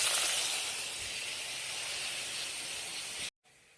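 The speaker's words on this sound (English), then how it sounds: "here the fish is getting fried" Fish fries in a pan with a steady, loud, close sizzling hiss that holds for over three seconds, then cuts off abruptly into quiet.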